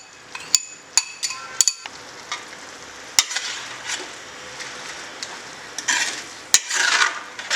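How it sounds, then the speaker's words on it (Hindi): Onions slid gently into hot ghee for a chicken curry hiss and sizzle, with sharp metallic clinks of a spoon against the pot at the start and a louder frying rush building later. "प्याज डाल देते हैं हल्के हाथ से, धीरे से, जिससे घी नहीं उड़े।"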